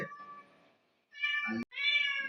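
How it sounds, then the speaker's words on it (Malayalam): A cat meows three times, close by: a short cry, then two longer drawn-out wails after a pause. "പൂച്ചക്ക് മത്സ്യം കിട്ടായിട്ട് കരയുന്ന"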